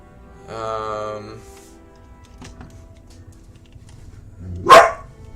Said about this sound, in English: That's my dog. I apologize.